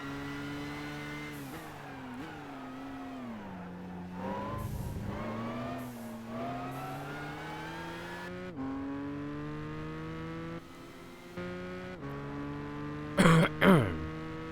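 Race car engine in the Gran Turismo 5 video game, Japanese Championship, droning steadily with rising and falling revs through gear changes, loud and continuous, with a brief sharper burst near the end.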